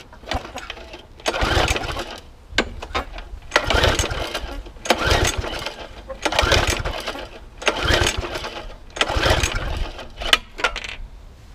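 A Briggs and Stratton lawn mower engine cranks repeatedly without catching, several loud bursts of pull-start cranking in a steady rhythm, each sputtering briefly and dying before the next attempt.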